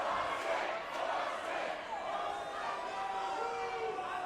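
Arena crowd at a Boston Butchers versus LA Elite boxing match, a sustained roar of cheering and chanting voices filling the hall at steady volume, with a faint whistle-like tone running through it.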